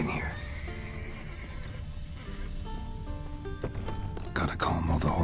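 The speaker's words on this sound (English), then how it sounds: "Gotta calm all the horses before they wake the guards." Horses neigh in a video game scene, a whinny rising through steady background sounds before a loud, sharp burst of neighing and commotion near the end.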